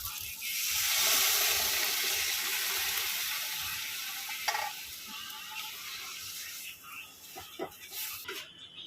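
Coconut milk pours into a sizzling galda prawn malai curry in a pan, a loud hissing rush that slowly fades into quieter bubbling, with a few clicks of a utensil as someone talks.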